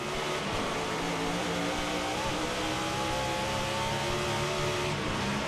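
Onboard engine of the number 60 NASCAR Nationwide Series stock car during the 2007 Meijer 300, a loud continuous roar with shifting pitch as the car accelerates and lifts through the corners.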